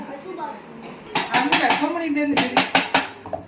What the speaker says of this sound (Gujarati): હવે ડ્રાય ફ્રૂટ કટ થવા માંડ્યા છે લાડવા માટેના